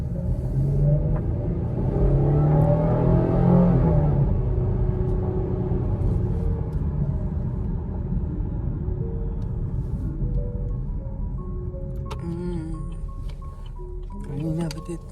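Loud 2022 Camaro exhaust in sport mode, a deep continuous rumble heard from inside the car with a swell of revving early on, steady droning through the rest.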